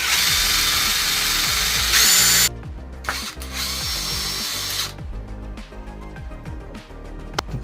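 A power drill bores into scrap wood, starting with a loud high whine and then settling into a steady grinding drone, close and unaccompanied by speech.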